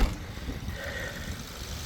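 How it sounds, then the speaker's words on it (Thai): A 2013 Mazda 3 1.6 Sport Plus with about 90,000 km sits idling, its engine giving a quiet, steady low hum with no voices. "เดี๋ยวเรามาฟังเสียงเครื่องยนต์กันนะครับ โอ้เครื่องยนต์แบบนิ่งๆเลยครับ"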